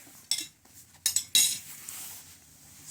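Spoons clink against dishes during a rice meal at a Rajab votive food gathering, giving a few sharp, close metallic taps followed by softer scattered clatter.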